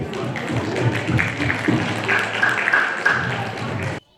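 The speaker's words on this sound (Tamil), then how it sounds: "ஒரு பெரிய கைத்தட்டல் கொடுத்து அவங்க வரவேற்கலாம்" A seated audience at a Tamil New Year school festival claps in dense, sustained applause to welcome kindergarten children onto the stage, a steady patter of many hands lasting several seconds before stopping abruptly.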